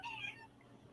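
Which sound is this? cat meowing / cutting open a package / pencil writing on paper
cat meowing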